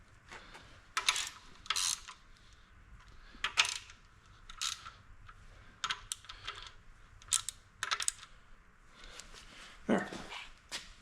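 A ratchet tightening rocker arm bolts on a Ford FE engine, with bursts of quick clicking strokes spaced a second or so apart, close and moderately quiet, with no talking.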